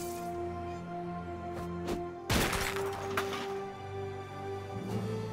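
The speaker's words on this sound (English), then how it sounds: "I just broke satellite" A satellite dish smashed in the South Park: The Fractured but Whole video game, one sudden loud crash cutting through steady game music, followed by a few lighter knocks.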